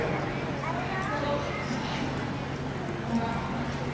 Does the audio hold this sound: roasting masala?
no